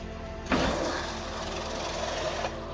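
A Canature RO 400UX DF reverse osmosis system flushing gives a steady mechanical hum and hiss that swells sharply, holds for about two seconds, then eases back to a low motor drone.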